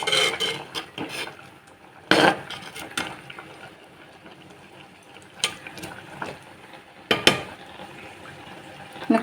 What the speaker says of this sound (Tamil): சாம்பார் நல்லா கொதிச்சிட்ருக்கு